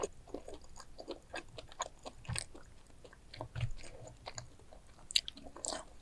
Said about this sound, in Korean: 오늘 만든 음식 팽이버섯전을 먹어보도록 하겠습니다